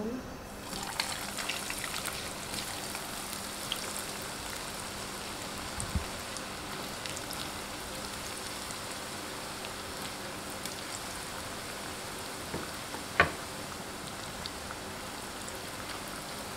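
French fries drop into hot oil on a high flame and fry with a dense, continuous crackling sizzle like steady rain, holding even for the whole stretch with a few sharper pops and clatters.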